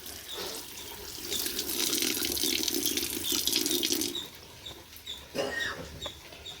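Tap water runs steadily into a sink while greasy gas stove parts are washed, a continuous hiss and splash that eases off partway through, then resumes with a few clatters and drips; no talking.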